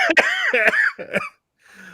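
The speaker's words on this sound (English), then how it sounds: "Got the cough." A few harsh, hacking coughs in quick succession, close and loud, followed by a brief pause and a faint breathy sound.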